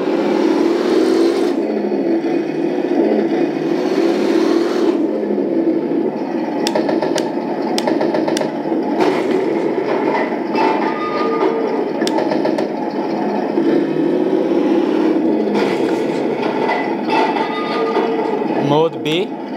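A customized full-metal 1:16 scale Abrams M1A2 RC tank drives along with a steady, close electric motor whir and gear drone, with brief clicks and rattles scattered through it.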